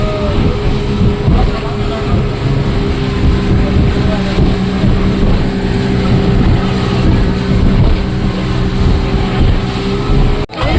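Motorboat carrying passengers to Coral Island off Pattaya, a loud, steady engine drone with rushing water and wind buffeting the microphone, continuous and close.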